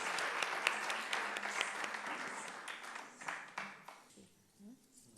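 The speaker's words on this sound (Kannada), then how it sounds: "ಮತ್ತೊಮ್ಮೆ ಜೋರಾದ ಚಪ್ಪಾಳೆಯೊಂದಿಗೆ ನಮ್ಮ ಹೃತ್ಪೂರ್ವಕ ವಂದನೆಗಳನ್ನು ಅರ್ಪಿಸೋಣ" An audience at a Kathak dance event applauds loudly, dense clapping that runs strongly for about four seconds, then thins out and fades as the hands die away.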